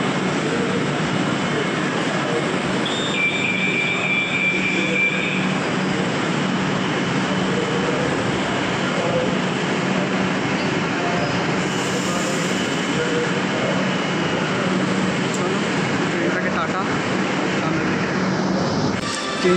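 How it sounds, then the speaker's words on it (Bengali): A metro train arrives at Kalighat station with a loud, continuous rumble and hiss of wheels and motors, and a brief high squeal partway through. "এই যে ট্রেনটা আসছে"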